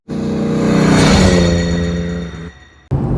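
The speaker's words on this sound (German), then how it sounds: "Ich lasse ihn mal ein bisschen fliegen. Da hört man den Sportwagen." A 1992 Porsche 964 RS sports car revs hard while driving, its engine note loud and close, swelling then easing over a few seconds before a brief drop and a renewed surge.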